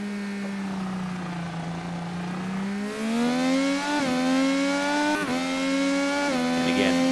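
An IndyCar race car in the iRacing simulator at Fuji Speedway roars steadily, then its engine pitch drops in stepped downshifts while braking into turn 1, with commentators talking over it.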